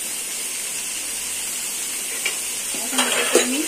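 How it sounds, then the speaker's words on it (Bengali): A spiced mixture of turmeric, chili powder and salt fries in a pan with a soft, steady sizzle while being stirred, with a few utensil scrapes and knocks toward the end. "এখন এটাকে আমি নেড়ে চেড়ে কষিয়ে ফেলব।"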